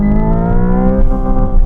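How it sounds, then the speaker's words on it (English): A Hyundai IONIQ 5 N electric car's simulated engine sound holds a loud, buzzing harmonic drone at redline, with stuttering cuts as the limiter kicks in. "The engine's cut and the car freaks out as if I'm at redline"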